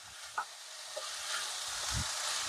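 Cooked rice fries with a tempering and green chillies over a medium flame for methi matar pulao, giving a soft, steady sizzle with a few faint stirring knocks, fairly quiet and close.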